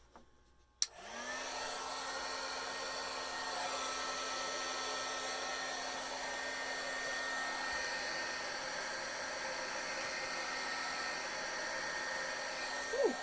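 Hair dryer drying glue on an ocean-themed craft kit piece: a sudden click, then a constant close whirring blast with a steady motor hum that runs evenly to the end.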